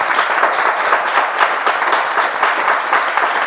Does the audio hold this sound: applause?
yes